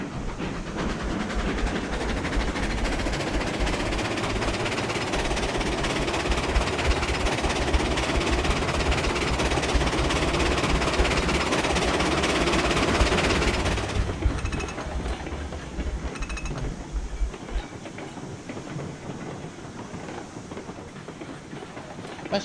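Three steam locomotives running together in the train game Railroads Online, a loud steady rumble with rolling clatter for about fourteen seconds, then dropping to a quieter, thinner hum without any talk.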